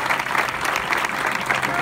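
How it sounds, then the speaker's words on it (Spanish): Dense, close applause from an audience at an Argentine local football league ceremony, continuous and loud clapping throughout with some crowd murmur mixed in. "Renovamos el aplauso."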